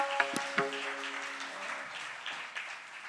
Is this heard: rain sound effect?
no